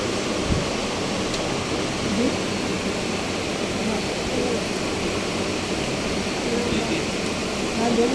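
An electric water pump runs and draws water, a dense, even rushing roar that holds steady and close the whole time, with voices faintly in the background.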